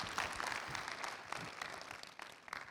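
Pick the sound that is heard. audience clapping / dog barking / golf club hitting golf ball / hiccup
audience clapping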